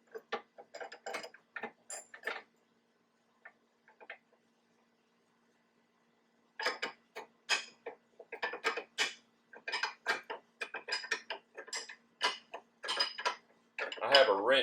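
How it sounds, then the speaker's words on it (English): Sharp metallic clicks and rattles from a 12-point wrench tightening a trailer hitch on a Porsche 986 Boxster or 996 911, in short bursts with a quiet gap midway, then a denser run of ratcheting clicks. "I have a wrench here that's a 12 point, so I am able to tighten up inside there."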